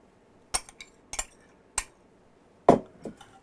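Ritz crackers and a tablespoon of butter are worked together in a bowl, making four or five sharp clinks and scrapes of a utensil against the dish, spaced irregularly in an otherwise quiet room.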